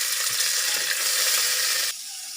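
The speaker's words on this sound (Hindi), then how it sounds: "अब इसी ऑयल के अंदर मैं ये बटर शामिल करूँगी" Butter sizzles in hot oil in a kadhai while vegetable egg biryani is cooked. A loud, steady hiss runs throughout and drops sharply in level just before the end.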